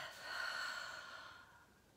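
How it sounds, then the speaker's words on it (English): A single slow, deep breath taken during a quiet guided meditation, a soft airy inhale swelling and then easing off, close and gentle with no talking. "It's like you can take a deep,"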